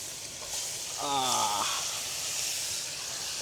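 Sea fish frying in a pan with turmeric and chili: a steady hiss of sizzling oil, moderately close, with a brief voiced sound partway through.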